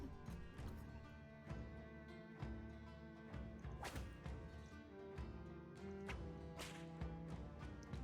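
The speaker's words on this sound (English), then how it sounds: "Gotta love the whip noise." Sharp whip cracks snap out repeatedly from combat in the Battle Brothers game, several bright, sudden strikes mixed with thuds and whooshes over a quiet background, no talking.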